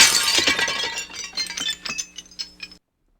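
A crashing, glassy shatter-and-clink sound effect from the Press Your Luck Version 4 computer game marks a whammy, with a loud initial burst followed by a scatter of smaller tinkling hits that stop abruptly.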